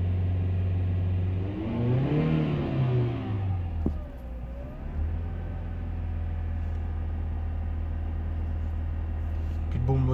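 A Mercedes E200 engine revs up, its pitch rising in a sweeping climb before dropping back to a steady idle hum, then picking up again near the end, with someone talking over it.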